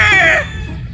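Brood stag rooster calling at a sale: one loud, close, harsh call that trails off within half a second over a busy background.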